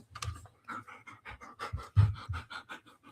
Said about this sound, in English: The panting needs to go away.